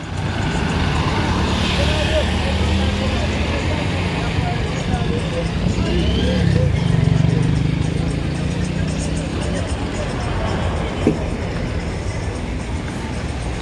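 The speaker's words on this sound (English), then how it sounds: "these are all the local Dala Dala, they call them Dala Dala buses here in Tanzania" Steady, dense road traffic of local Dala Dala minibuses in Dar es Salaam, Tanzania, a continuous low engine rumble with passing vehicles and a brief sharp knock near the end, under a voice talking.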